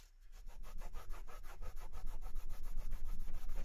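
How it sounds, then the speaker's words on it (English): Steady, rhythmic rubbing of double-sided tape residue off a wooden audiophile speaker stand, close and continuous with repeated back-and-forth strokes, no talking. "to give it a really good rub, because it takes a bit to get it off"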